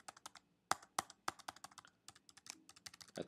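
Rapid keystrokes on a computer keyboard while adjusting values in Geometer's Sketchpad, a steady run of close, crisp clicks with one short pause, no voice.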